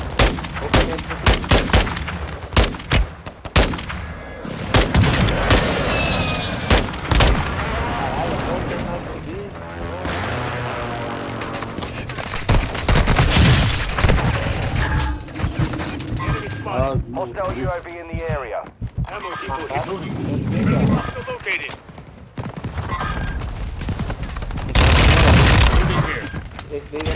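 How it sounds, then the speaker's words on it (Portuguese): Gunfire from below in a shooter video game cracks out in sharp, loud bursts and single shots, with rapid volleys and booming impacts scattered throughout while voices talk over the shooting. "tem gente atirando lá de baixo"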